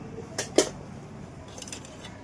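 A full set of small kitchen utensils and pots with lids, bought in Bombay, being handled, giving two brief metallic clinks close by, followed by softer rattling; no one talks.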